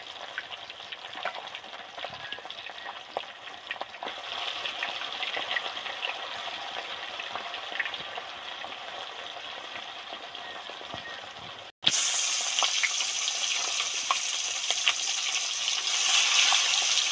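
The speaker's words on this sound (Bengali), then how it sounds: "এবার এর মধ্যে মাছগুলো দিয়ে দেব।" Large whole fish deep-frying in plenty of hot oil in a wok, a steady, loud sizzle that continues throughout and turns even louder and harsher after a short break.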